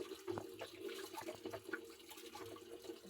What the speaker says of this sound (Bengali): তাই আলু কুচে এনেছি, এখন ধুয়ে নেব।